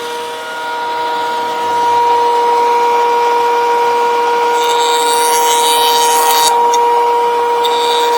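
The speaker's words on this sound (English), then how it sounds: "I'm going to take them on a sander, cut this in half, and I'll have 2 of them." A sander works on wooden stair pegs for fitting timber stairs, giving a steady mechanical whine with a rasping, scratchy wood-abrasion texture that swells in the second half and stays loud throughout.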